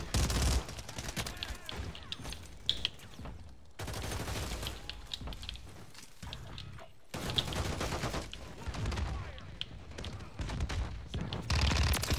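Shotgun and RPG fire in a video game: dense, rapid bursts of gunfire and blasts, loud and close, repeating almost nonstop with a few short gaps.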